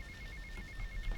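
A telephone rings in GTA Vice City Definitive Edition, sounding as a rapid electronic trill repeating evenly throughout, fairly quiet over a low background hum.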